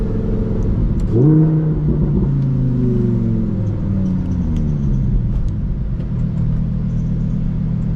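A Lamborghini Huracan EVO Spyder convertible driving through Dubai, its engine and exhaust rumbling steadily, then swelling in a rising rev before settling back into a throaty cruise, close and loud with no talk.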